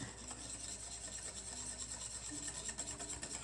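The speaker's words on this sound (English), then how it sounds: "So I'm just whisking it." A thick chocolate pudding mixture is whisked in a bowl, giving a continuous close rubbing and scraping with a fast, even rhythm under a steady background hum.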